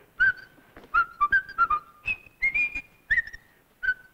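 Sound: person whistling Swanee River while eating puffed cornflakes

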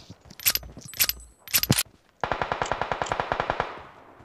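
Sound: gunfire in the video game PUBG Mobile

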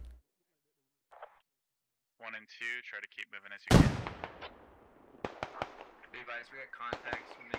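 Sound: gunfire in Squad video game

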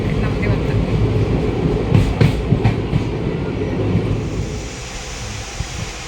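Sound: train running on rails

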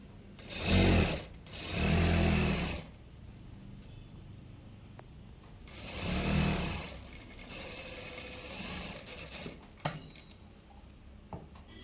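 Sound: sewing machine stitching piping onto a churidar sleeve

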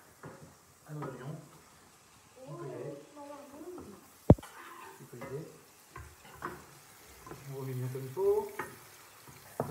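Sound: smoked pork belly frying with onions

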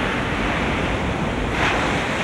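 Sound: ocean waves at sea

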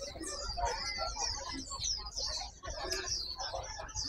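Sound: caged birds at a pet bird market in Hai Phong

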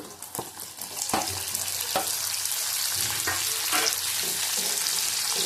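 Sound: frying capsicum in a pan

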